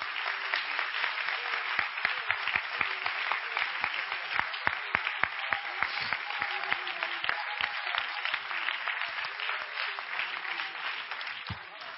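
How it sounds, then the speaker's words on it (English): Church congregation clapping hands during a sermon, a sustained, energetic stretch of many people applauding with crisp claps standing out, continuing for over ten seconds. "Clap your hands if you believe God's doing it."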